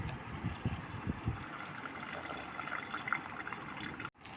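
Tamarind water is poured into a simmering fish curry (kulambu), a faint, steady liquid pour that stops abruptly near the end.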